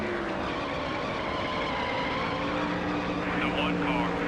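Race cars in NASCAR Thunder 2003 roar in a steady, dense engine drone at Michigan, with one car closing to pass near the end as the pitch shifts, under continuous talk.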